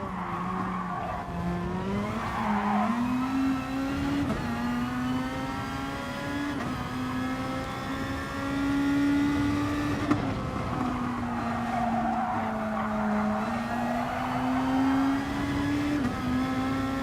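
Race cars in the GT Sport video game roar close by with a sustained high engine whine, rising and falling through gear changes, mixed with tire skids and squeals.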